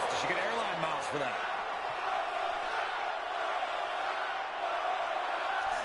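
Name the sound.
crowd of fans chanting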